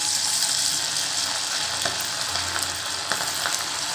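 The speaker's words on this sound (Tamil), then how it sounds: "இப்போ வந்து இதை நம்ம எண்ணெயில் போட்டு பொரிச்சு எடுத்துடலாம்" Marinated squid rings for a squid 65 dish fry in hot oil, making a steady, dense sizzle with scattered pops and crackles, close and fairly loud, with no voices.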